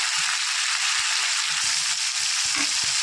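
Potato and taro pieces frying lightly in a pan, a continuous bright sizzle of hot oil with soft low knocks from stirring throughout.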